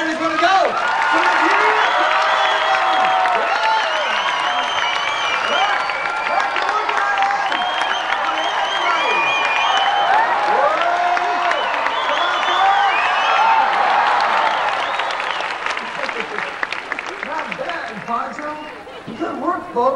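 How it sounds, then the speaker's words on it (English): An audience claps, screams and cheers in a loud, sustained roar of applause and whoops that carries on for many seconds, thinning toward the end, with a voice speaking through it. "The more that you folks clap, scream, cheer, and holler"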